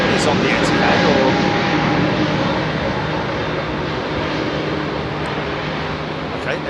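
A plane's engines roar at Heathrow Airport, a broad, loud rumble that peaks early and then slowly eases off while people talk nearby.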